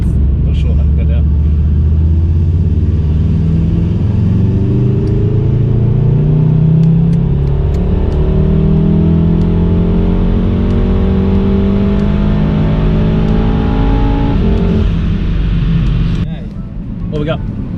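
A tuned Golf R or BMW M2 engine revs hard on a dynamometer, a loud continuous roar climbing steadily in pitch for about fourteen seconds before cutting off abruptly.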